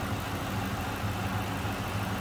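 A 1999 Ford Mustang SVT Cobra's hand-built 4.6-liter dual overhead cam V8 idles with a steady, smooth low rumble and even throb, continuous and close, with no voices over it.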